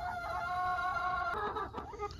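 Chickens cluck and a rooster calls inside a small 8x8 coop on a snowy day, a brief close, fairly soft burst of drawn-out calls and clucks with no talking.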